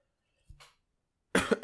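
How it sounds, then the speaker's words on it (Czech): A person with a lingering cough gives one short cough, followed after a brief pause by a louder, rougher burst of coughing close to the microphone, with no speech. "furt mě trápí ještě kašel"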